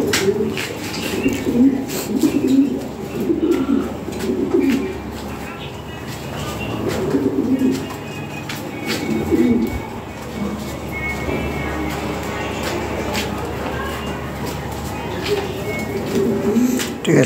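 A pair of black Lahori pigeons of the toy beat type coo repeatedly in soft, low, rolling phrases, close by, while someone talks over them throughout.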